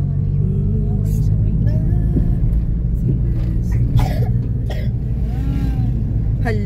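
A child coughs a few times close by, the bursts set against a steady low rumble of a vehicle or engine, with speech-like voices nearby and a bird chirping faintly.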